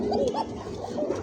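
Pigeons, fancy breeds kept for sale, give a few short throaty coos close at hand, one after another over a moment.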